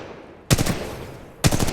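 Gunfire from a weapon in the shooter game Titanfall 2: two short, loud bursts of rapid automatic shots, the first at about half a second and the second near the end, with quiet game ambience between them.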